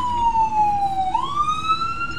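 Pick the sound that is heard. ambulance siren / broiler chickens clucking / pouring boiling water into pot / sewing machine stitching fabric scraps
ambulance siren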